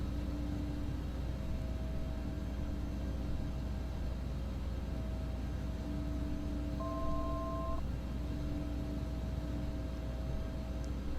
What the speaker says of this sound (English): Because we just had a plane fly over us and we're maintaining visual separation.